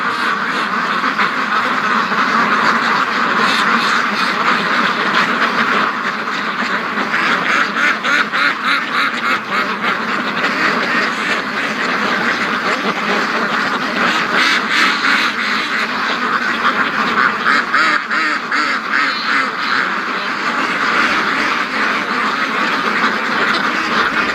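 A flock of free-range, land-locked ducks quacks continuously and loudly, dense overlapping calls from many birds close by for the whole stretch, with no talking.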